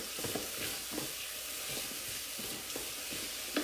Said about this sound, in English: Just gonna stir this around a bit.